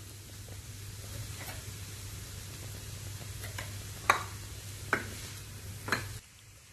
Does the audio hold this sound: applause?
no